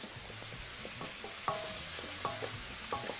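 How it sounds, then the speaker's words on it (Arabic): Potatoes being stirred as they fry with a bouillon cube added, giving soft scraping stir strokes over a steady close sizzle, with a few sharper utensil knocks at intervals and no talking. "نقلب نديها كده مكعب مرق عشان تصفر معايا وتديني لون حلو."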